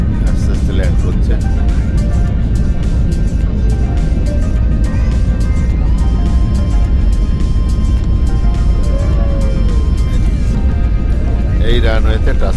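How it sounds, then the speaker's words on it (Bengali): Inside the cabin of a passenger airplane landing at Da Nang, a loud steady engine roar and rumble fills the space, with changing tonal whines as the aircraft descends and a voice briefly near the end. "এখন আমাদের ফ্লাইট ল্যান্ড করছে"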